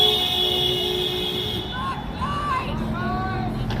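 Short horn toots from passing cars sound at a street protest in Portland, Oregon, a few brief blasts in the middle of the clip over a steady background hum.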